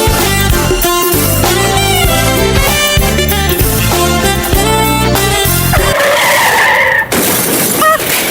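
A radio ad car skids before a collision: a screeching tire squeal cuts in after upbeat music, ending in a crash-like burst, loud and up front.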